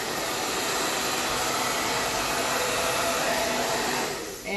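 A hair dryer blows hot air over acrylic pour paint with a loud, steady whooshing roar up close, cutting off near the end.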